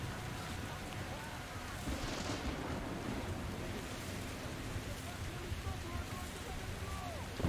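Thunderstorm ambience in the video game Metro Exodus: steady rain and wind with low rumbling thunder, continuous and fairly loud throughout, with a sharper burst near the end.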